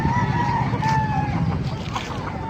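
Roosters and hens at a poultry market in Bocaue, Bulacan give nearby clucks and a drawn-out crow over a busy background, briefly and at moderate volume.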